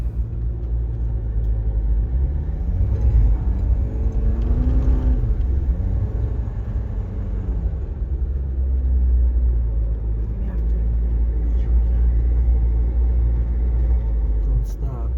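A four-wheel-drive vehicle, still in two-wheel mode, pushes through deep sand on a back-country trail to Todos Santos, giving a loud, steady, close engine rumble with a low drone throughout.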